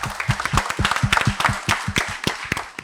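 Audience applause at a result celebration event, a dense burst of many hands clapping loudly and steadily throughout, close and without talk.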